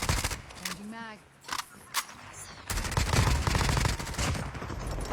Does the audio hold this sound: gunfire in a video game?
yes